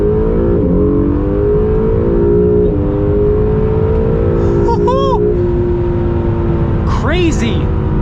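Acura NSX accelerating on an open road, a steady engine drone that climbs in pitch and grows louder over about five seconds, with faint wind roar throughout.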